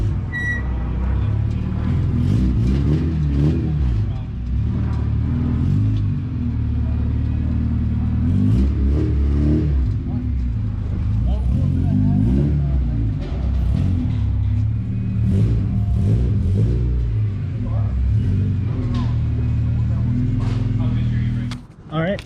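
Car engine on a dyno during tuning of a K-swapped Honda, a loud steady droning rumble with rises in revs throughout, close by, with voices talking faintly underneath.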